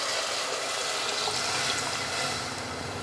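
Water pours steadily into a cooking pot for crab rasam, a continuous close, full splashing gush with no voices over it.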